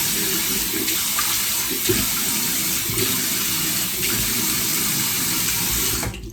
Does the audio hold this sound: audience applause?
no